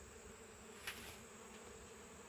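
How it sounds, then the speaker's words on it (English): Honey bees buzz faintly and continuously around a beehive during a mite treatment, with a brief closer buzz partway through. "They have a hole right here so the bees can come and go through the top."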